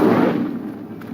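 The Incendio fire spell in Hogwarts Legacy erupts as a loud, whooshing burst of flame that roars briefly and fades over about a second.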